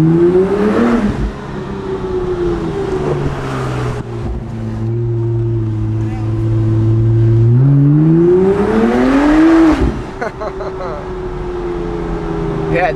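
Engine of a Gemballa Avalanche 650 Roadster with a PDK gearbox revving up and down in repeated swells, loud and close, with someone talking over it.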